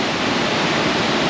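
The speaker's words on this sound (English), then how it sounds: "It's almost like the ocean is crashing" River water crashes through rocks at the 4000 Islands in Laos, a loud, close, unbroken roar of white-water rush with no pauses or voices.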